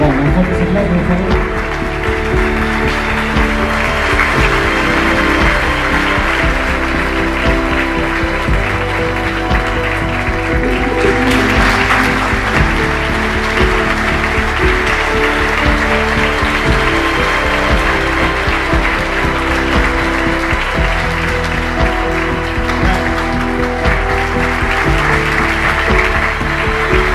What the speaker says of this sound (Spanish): Bueno, un fuerte aplauso, por favor.